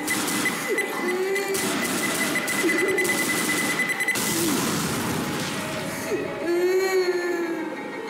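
A wailing, sobbing cry of a zombie in Left 4 Dead rises and falls a few times amid dense game noise and background clatter, fairly loud throughout.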